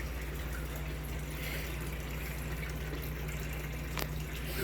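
A steady stream of water runs over a gold sluice outdoors, making a continuous, even rushing and trickling sound that stays close and fairly quiet, with no talking.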